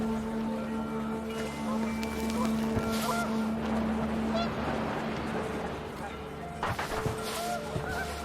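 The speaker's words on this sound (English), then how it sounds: "panicked geese appeared and quickly went" Panicked geese honking outdoors on a windy day, their calls loud over steady wind and low rumbling background noise, with a steady drone and a few sharper bursts later on.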